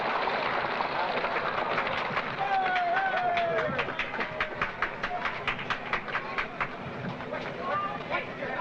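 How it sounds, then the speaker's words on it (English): The 1959 Disneyland monorail train rolls into its loading position at the dedication, giving a steady rhythmic clatter of repeated clicks over crowd noise, with faint tonal whines and people talking nearby. "The train is moving now into place for loading"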